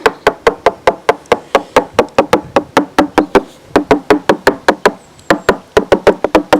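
A worn, broken flathead screwdriver end taps repeatedly along a deck suspected of delamination, giving a steady run of loud, close, sharp knocks with a brief pause partway through.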